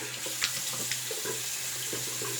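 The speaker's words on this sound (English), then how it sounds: "rinse the blade," Water runs steadily from a bathroom tap while a double-edge razor blade is rinsed under it, a soft continuous splash with small clinks, close and fairly quiet.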